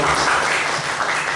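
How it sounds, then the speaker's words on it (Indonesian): A church congregation claps together at an Indonesian worship service, a dense, loud burst of applause that fills the whole short moment without pause. "Tepuk tangan lagi dong."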